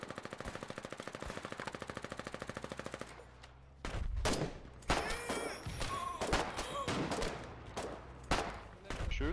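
Rapid automatic gunfire rattles in a fast, even stream in the Foxhole war game, then gives way to heavier, irregular shots and blasts in a chaotic battle mix.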